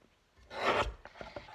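A small paper trimmer blade slides across card to cut a thin strip, giving one short rasping slice up close, then a couple of faint clicks afterward.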